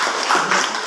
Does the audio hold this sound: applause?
yes